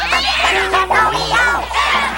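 A cat meows repeatedly in a 1996 movie trailer, several drawn-out, wavering cries close and loud over a steady background hum.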